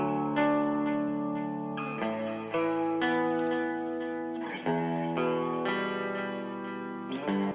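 Sustained distorted, reverb-soaked synth or guitar chords shifting every couple of seconds, with a wash of echo trailing each change as the reverb's EQ is toggled; no voices.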